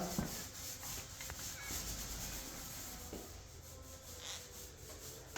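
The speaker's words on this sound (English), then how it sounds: "I'm kind of having to push here because the paint is absorbed into that drywall." An 18 inch paint roller pressed hard against drywall, making a soft, continuous rubbing and sticky rolling sound, quiet and close with slight swells as the stroke changes direction.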